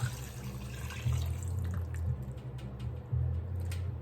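Water and chicken broth are poured into a pot of greens, producing a low gurgling splash in several pulses with soft drips between them, close and fairly quiet.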